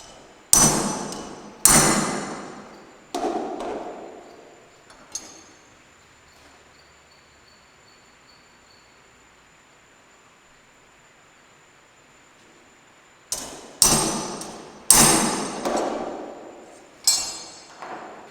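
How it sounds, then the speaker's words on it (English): Sharp metallic hammer strikes on a center punch marking metal for drilling ring out in two clusters, several sharp blows each with a lingering ring, separated by a long quiet stretch. "use the center punch to put some really good marks in there for the drill bit"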